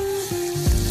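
Potatoes hit a hot frying pan and sizzle for a quick Marathi-style potato curry, a short sharp crackling hiss rising as they are added.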